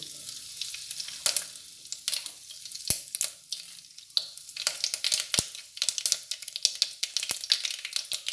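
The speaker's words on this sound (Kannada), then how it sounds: "ಇದಕ್ಕೆ ಇವಾಗ ಒಂದು ಸ್ವಲ್ಪ ಸಾಸಿವೆ ಹಾಕೋಣ" Mustard seeds crackling and popping in a small amount of hot oil as the tempering for hotel-style sambar begins, with dense sharp sizzling spatters and occasional louder pops close by, no talking.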